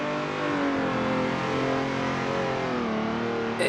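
A race car in Assetto Corsa drifts through a corner, its engine held at a high, wavering rev with pitch sliding up and down as the throttle is worked, loud and steady throughout.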